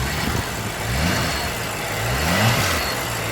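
BMW M6 Competition Edition with the competition package and 600-horsepower engine giving a few short revs, the close mid-pitched engine note rising and falling in quick swells over a steady idle.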